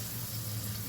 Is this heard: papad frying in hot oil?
yes